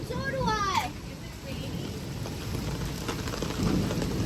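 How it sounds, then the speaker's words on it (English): Steady rain falls outside a house in a thunderstorm, a broad continuous hiss with a low rumble underneath, while a voice and other speech come and go over it. "It's raining,"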